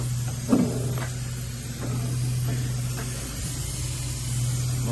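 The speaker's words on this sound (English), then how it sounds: "It probably bust the radiator hole." Steady hiss of coolant escaping from a burst radiator on an RnB Cutlass drag car on 24-inch wheels, a constant close broadband spray under a low engine hum with a few faint knocks.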